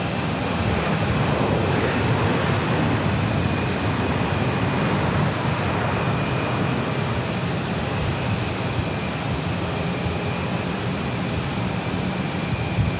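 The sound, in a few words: airplane landing at Sky Harbor Airport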